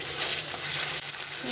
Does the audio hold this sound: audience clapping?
no